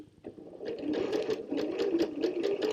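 A sewing machine starts and runs steadily after the foot pedal is pressed, a close, continuous rapid stitching whir with a brief quiet moment before it kicks in.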